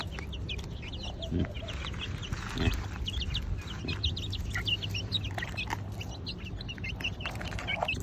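Chickens at a backyard coop cluck and chatter in a continuous, moderately loud flock noise, with occasional louder calls and thumps nearby over a low background hum.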